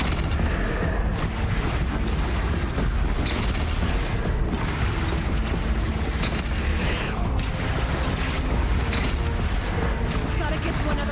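Horizon Zero Dawn gameplay with dense, continuous weapon fire and booming explosions as a battle rages, loud and unbroken throughout, with a player's voice speaking over the din.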